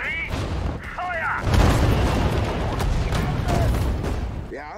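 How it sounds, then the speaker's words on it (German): Artillery fire in the Sudden Strike 4 war strategy game: a heavy sustained rumble of booming explosions fills the clip, with brief shouted voice commands from units layered over the barrage. "Artillerie! Feuer!"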